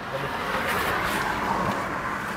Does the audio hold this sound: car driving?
yes